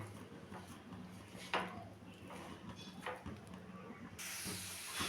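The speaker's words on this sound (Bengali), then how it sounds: "এখন আমি এটা নেড়ে চেড়ে একটু ভেজে নেব" Bottle gourd fries in ghee for payesh, a faint steady hiss with soft stirring knocks and scrapes that grows into a brighter, louder sizzle toward the end.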